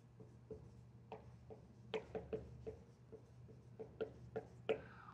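Pen or chalk writing notes during a biology lecture on membranes, a series of faint, quiet scratches and taps in short irregular strokes against a low room hum.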